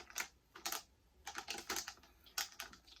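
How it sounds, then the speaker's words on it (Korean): Typing on a Topre Realforce keyboard, a close, clear series of soft keystroke clusters in uneven bursts with short pauses between, no voices. "지금 제가 가지고 있는 요 리얼포스 키보드"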